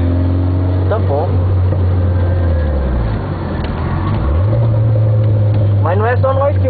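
A racing car takes the main curve of a wet track at about 185 km/h, heard from inside as a loud, steady engine drone that dips and climbs back, with tyre or gear squeals and someone talking over it.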